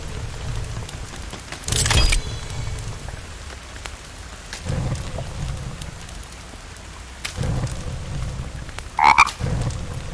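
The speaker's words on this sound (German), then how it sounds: "war der Frosch laut eben" Frogs croak loudly in the survival video game The Forest, several sharp croaking bursts scattered over a steady patter of rain, with one distinct close call near the end.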